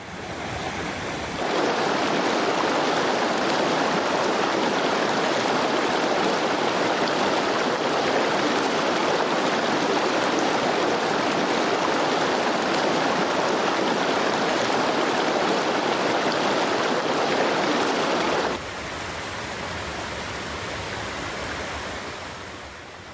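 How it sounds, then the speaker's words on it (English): Clean, fresh water flows in a forest stream with a steady, loud, broadband rush. Near the end it abruptly drops to a softer, more distant flow. "Clean, flowing, fresh water."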